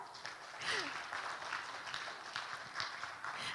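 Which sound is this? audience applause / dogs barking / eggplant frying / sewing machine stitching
audience applause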